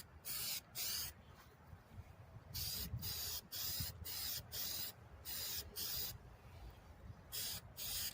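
Spray paint is applied to a Dollar Tree seashell picture frame in about a dozen sharp hissing bursts, close and loud, separated by short quiet gaps.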